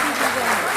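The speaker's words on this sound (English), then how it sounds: "Let's give another huge round of applause." Audience at a Maple Bear Canadian Preschool annual fest applauds after a Yakshagana performance, a brief dense burst of clapping from a crowd.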